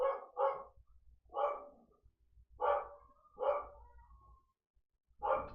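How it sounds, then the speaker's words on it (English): A pet dog barks about six times in separate sharp single and double woofs at a moderate distance, with quiet pauses between them. "that's my dog"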